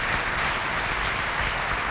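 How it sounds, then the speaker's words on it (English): A dense, steady wash of applause from an audience at a senior scholarship and awards night, loud and continuous with no gaps and no clear voices. "Let's give them a round of applause."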